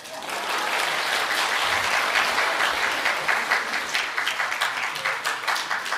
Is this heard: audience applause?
yes